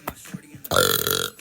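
A girl gives a long, loud croaking burp near the microphone, held for about a second, after a few faint clicks and breaths.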